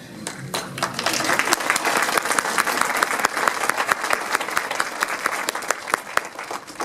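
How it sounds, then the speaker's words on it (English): Garden club audience applauding musicians Marshall Griffith and Barbara Knight, a full room of hands clapping that builds quickly and continues steadily with crisp individual claps standing out. "applause"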